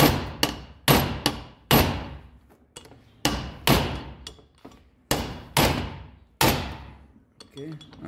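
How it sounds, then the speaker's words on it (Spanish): Heavy hammer blows strike metal again and again while replacing wheel bearings, in an uneven rhythm, each a dull, close thud with a short ringing tail. "Ahí se escuchó el golpe seco, hasta me rebotó."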